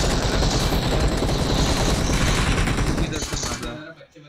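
Sniper fire from an M24 rifle in PUBG Mobile, heard as a dense, loud, sustained barrage of gunfire that drowns everything for several seconds before tapering off.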